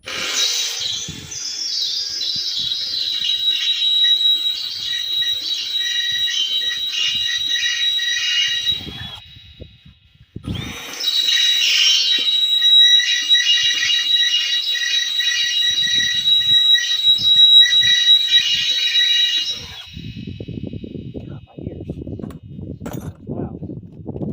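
A drill boring into a metal refrigerant tank, a loud high-pitched whining screech in two long sustained runs with a brief gap between, then quieter handling noises.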